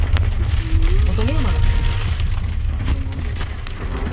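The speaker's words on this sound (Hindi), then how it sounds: "कितना प्यारा मौसम हो रहा है, बारिश हो रही है" Rain falls steadily around forest cabins near Broken Bow, Oklahoma, making a continuous close hiss and patter, with faint voices murmuring underneath.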